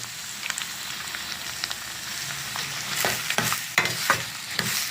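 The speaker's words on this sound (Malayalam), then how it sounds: "എന്നിട്ട് നമുക്ക് നന്നായിട്ട് ഇളക്കി കൊടുക്കാം." Chopped beetroot sizzles steadily in a frying pan while a spoon stirs it, with scraping strokes growing louder and more frequent near the end.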